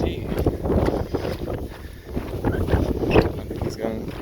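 Strong wind buffets the microphone on the Pacific Crest Trail, a continuous rough roar with gusts rising and falling, loudest near the end, and speech-like sounds mixed in.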